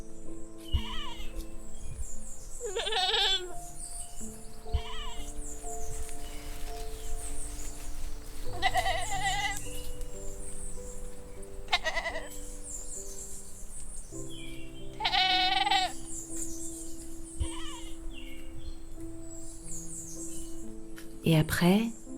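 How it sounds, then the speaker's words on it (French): Goats bleating during a countryside walk, several calls scattered across the stretch, some close and loud, others softer, over a steady outdoor background with a voice talking intermittently. "Et puis je suis passée dire bonjour à mes copines les chèvres."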